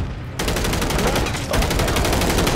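Rapid automatic gunfire in the video game Call of Duty, a fast, regular burst of loud shots that rattles on continuously after a brief quieter start.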